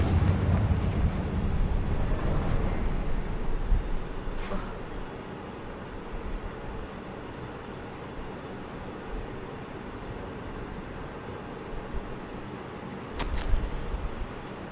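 A Confringo fire spell explosion in the video game Hogwarts Legacy: a loud, rumbling burst that fills the opening seconds and fades into a low roar, with a second sharp blast near the end.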